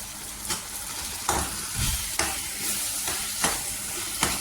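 Drumsticks cooking in a pan of ripe tomatoes, a soft steady sizzle under several sharp scraping stirs spaced about a second apart, close and moderately loud.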